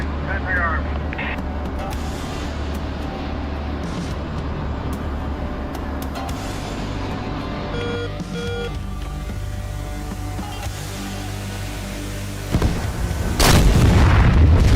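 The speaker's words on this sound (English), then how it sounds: "Oh, it's a flak gun. It was a Zeus 57." A ZSU-57 flak gun fires in a video game, giving a steady stream of heavy booming rounds under an engine-like rumble, with someone talking over it.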